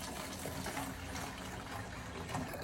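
Injection marinade poured straight from a container without a funnel while preparing a whole hog for the smoker, a steady close splashing gush of liquid that runs the whole time with no talk.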